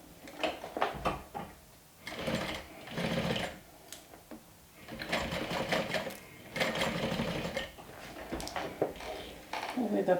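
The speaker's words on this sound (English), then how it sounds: "I'm going to stitch that right sides together" A sewing machine stitches two fabric pieces right sides together in several rapid bursts separated by short pauses, a steady close mechanical whirr under some quiet talking.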